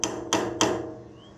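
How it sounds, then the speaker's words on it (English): Three heavy Craftsman hammer strikes land in quick, even succession, each with a ringing metallic decay that fades out afterward. "I'm glad Craftsman makes a good hammer."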